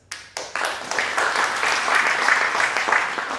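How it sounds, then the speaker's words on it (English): An audience at a live theater show at the Hollywood Fringe Festival bursts into loud, sustained applause, with dense clapping building quickly after a few early claps and holding steady. "Clap now if you like pizza."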